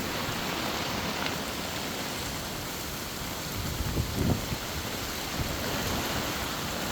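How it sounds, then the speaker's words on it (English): Heavy rain drums steadily on a closed tarp shelter during a Temagami canoe trip, a dense even roar that never lets up, with a faint low thump or two partway through and no voices. "we've closed the flaps on the tarp because it's really raining"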